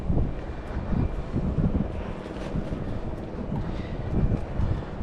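Strong wind buffets the microphone on a fishing boat on the open sea at Pamban, a steady low roar that fills the whole stretch with gusty rumble and no voices.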